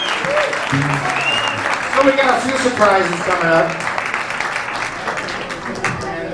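Applause from an audience at the Blue Note jazz club after a singer's set, steady clapping throughout with a host's voice talking over it.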